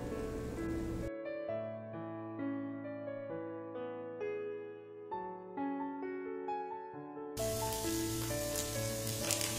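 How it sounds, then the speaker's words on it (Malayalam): Cooked minced meat fries in a pan with a soft, hissing sizzle, heard faintly at the start and end. A stretch of music fills the middle in place of the frying. "ഇറച്ചിയിലെ വെള്ളമെല്ലാം പോയി ഒന്ന് ഡ്രൈ ആകുന്നത് വരെ വറുത്തെടുക്കാം."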